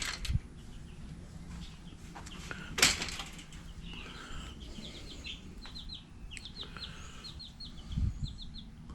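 Baby chicks chirp in quick, high, repeated peeps over a low ambient hum, with a few louder knocks and rustles scattered through.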